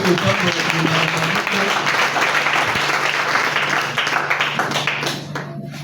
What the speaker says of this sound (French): Est-ce qu'on peut bénir la parole par acclamation?